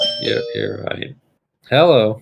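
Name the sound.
doorbell ringing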